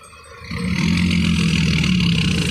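An engine revs up and holds at a loud, rough roar, rising from a quieter idle in the first half second.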